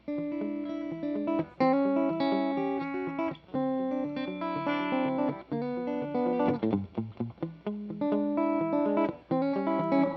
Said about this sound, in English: You guys notice how much lower the distortion is?